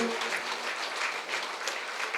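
Audience applause at a meditation centre anniversary celebration, a continuous even patter of many hands clapping without talk.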